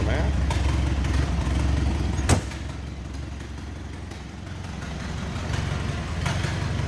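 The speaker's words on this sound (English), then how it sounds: "Sounds like you'd expect out of a 201 inline 4, that L-head 4-cylinder will put in the Model A's" 1928 Ford Model A roadster with its 201 L-head inline four-cylinder engine idling: a low, steady rumble and chug, with one sharp click partway through and a faint voice in the background.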